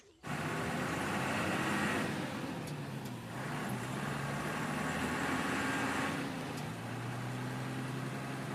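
Truck engine droning steadily as it drives, a continuous broad rumble of road and motor noise from start to finish, with faint voices occasionally beneath.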